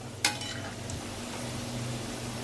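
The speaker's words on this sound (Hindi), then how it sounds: "तब मैं इसी तरह से इसे फ्राई होने देती हूँ।" Vegetable cutlets fry gently in a pan on low flame, giving a soft, steady sizzle with a brief clatter near the start.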